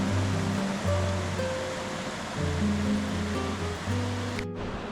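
Steady broadband rush of falling water at the upper part of Ranmudu Ella waterfall in Sri Lanka, close and continuous, with low droning tones running beneath it and a brief dropout near the end.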